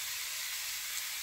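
Shrimp sautéing with garlic in a pan gives off a continuous, even, soft hiss of sizzling, brief and unbroken, with no voices.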